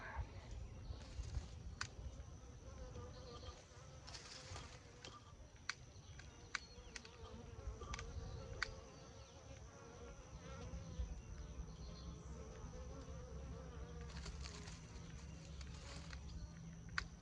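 Honeybees drone steadily around three wooden beehives outdoors in wet weather, a soft continuous buzz with individual insects flitting near and away and occasional faint clicks.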